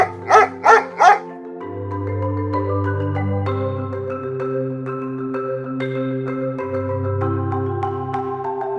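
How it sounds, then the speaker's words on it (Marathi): A pet dog found as a stray on the road gives three quick, loud barks close by, followed by sustained tonal music. "हा माझा कुत्रा आहे."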